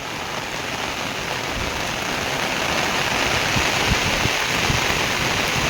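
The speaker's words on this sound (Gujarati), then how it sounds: "હાવ ગજબની વરસાદ વર્યો તો ખરી પણ અતિશય વર્યો અહીં" Heavy rain pouring down in a dense, constant roar, loud and close, with water drumming on surfaces throughout.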